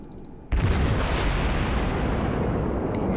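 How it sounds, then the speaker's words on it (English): Heavy naval gunfire from a warship in World of Warships, fired at the battleship Yamato: a sudden loud booming salvo strikes after a brief quiet lead-in, then a long rumbling roar sustains to the end, with no voices. "We got shots on the Yamato."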